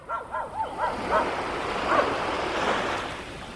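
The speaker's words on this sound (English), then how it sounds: "What's he barking for?" A feral dog barks a few times at a distance near the shore, the short barks coming early and then fading under a steady wash of ocean surf and wind.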